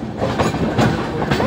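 A passenger train runs along its tracks near hills, on a journey from Dum Dum toward Visakhapatnam and Duvvada; a steady close rumble with rhythmic clickety-clack of the wheels continues throughout with no talk.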